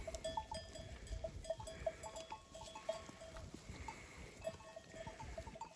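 Village flock of sheep, with repeated light metallic bell tinkles and soft animal shuffling spread through the scene, fairly faint and close, with no talk.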